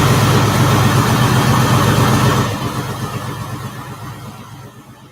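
A Chevy square-body pickup truck engine idles loud and close with a rough, steady low rumble, then settles to a quieter, lower idle partway through.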